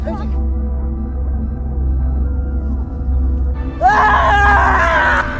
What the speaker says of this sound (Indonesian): Itu teriakannya.